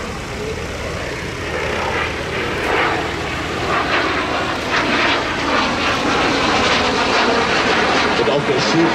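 A Messerschmitt Me 262 replica jet fitted with modern General Electric engines at the Hahnweide vintage aircraft meeting. It gives a loud, continuous roaring rush that swells steadily throughout.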